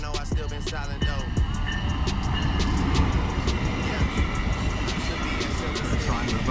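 A train rumbles past in a continuous, steady roar with clattering wheel noise, close and loud throughout, filmed outdoors during a music video shoot.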